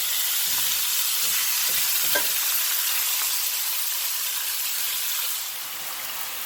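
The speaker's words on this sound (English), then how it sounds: "Now I'm just going to take my meat and saute it." Carne asada steak sautéing over high heat in a hot pan for huaraches, giving a steady close sizzle with a few faint stirring clicks, easing slightly near the end and heard alone with no talk.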